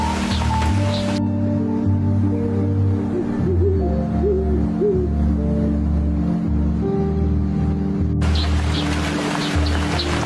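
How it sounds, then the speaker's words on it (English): An owl hoots in a short series of soft, low calls amid a steady wash of wind and rain-like noise, set in a chilly, snowy scene. "owl, braving the chill, tucks its young ones safely under its wings."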